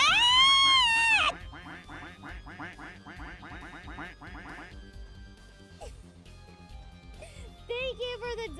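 Quacking from ducks, played as a sound effect, comes in a rapid string of nasal calls, loud at first, then repeating more softly under and around other sounds.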